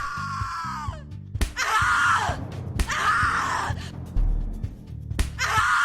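A woman screams repeatedly in The Cat Lady horror video game, giving long, loud, anguished wails in several bursts with brief gasps between them, set over a low droning game soundtrack.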